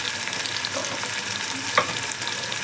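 Ginger garlic paste fries in a hot pan for goat head curry, giving a steady, close sizzle with one brief metallic clink partway through; no talking.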